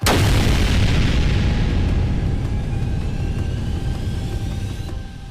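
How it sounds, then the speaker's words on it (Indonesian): A huge blast of nuclear energy erupts in an animated martial-arts story: a loud, sudden boom at the start rolls into a long, dense roar that slowly fades over several seconds, with no voices. "ledakan besar kembali tercipta di sana"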